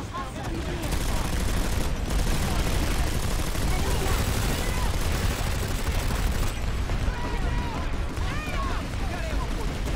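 Dense, constant gunfire and explosions from a large battle in the video game PlanetSide 2 fill the whole stretch at a steady loud level, with voices faintly underneath.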